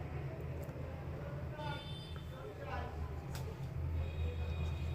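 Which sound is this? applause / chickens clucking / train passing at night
train passing at night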